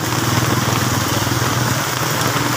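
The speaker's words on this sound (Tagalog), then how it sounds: "Ayan, lumakas na naman yung ulan." Heavy rain pouring down on a city street, a loud, dense and unbroken hiss of drops hitting surfaces close by, with a faint low rumble underneath.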